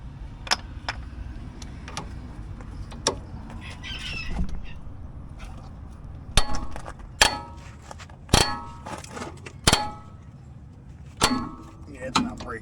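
A hammer strikes a metal part on a Jeep XJ in a garage, giving sharp metallic clangs that come in irregular bursts, sparse at first and then louder and closer together, over steady background hiss.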